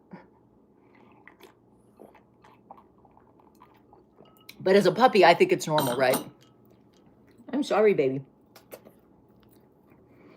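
A puppy chews on someone's neck and nearby objects, giving soft, low, intermittent gnawing and mouthing noises in a quiet room, interrupted by someone speaking in two bursts.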